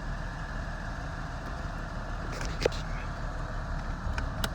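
A Thunder Cooter SCXR7 engine idles with a slight misfire, its steady low rumble broken by faint irregular stumbles, with a sharp knock near the middle.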